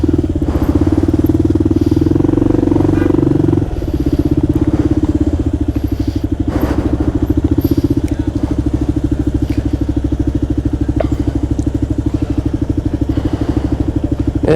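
A Kawasaki KLR motorcycle being ridden, its single-cylinder engine thrumming loud and close with a steady pulsing rhythm and brief throttle changes, heard alone without talk.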